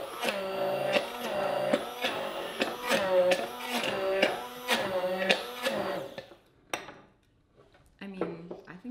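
A Vitamix immersion blender whirs loudly while making ice cream, its motor pulsing in repeated bursts for about six seconds before stopping, then a brief clatter and a short restart follow.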